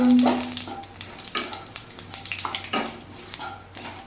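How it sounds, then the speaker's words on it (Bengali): Dry red chilies and bay leaves frying in hot oil give a soft sizzle, with repeated scraping taps of a spatula stirring the pan close by. "এবার সামনে আমি 2টো শুকনো লঙ্কা ফোড়ন দিয়ে দিচ্ছি, আর 2টো তেজপাতা ভালোভাবে নেড়ে চেড়ে নিয়ে এবার ফোড়নটা দিয়ে দিলাম"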